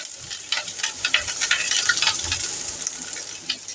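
Food sizzles and crackles steadily in a pan while a utensil stirs it, with soft scraping bursts throughout, close up and fairly loud.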